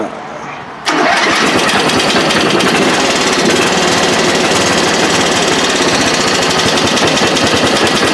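A four-stroke engine under HHO testing starts up abruptly after a brief quiet moment, then runs loud and steady with a dense, rapid mechanical chatter that fills the rest of the stretch.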